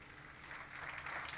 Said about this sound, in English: So I would like to dedicate this applause to the entire Refashion team, Véronique and her team.